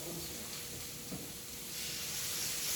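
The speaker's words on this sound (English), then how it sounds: "You hear that sizzle?" A soft, steady sizzle of steak kabobs with peppers cooking on a hot grill, quiet and continuous with no talking.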